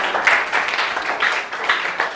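Classroom applause for a student, a steady patter of many hands clapping at moderate loudness for a couple of seconds, with a little voice mixed in.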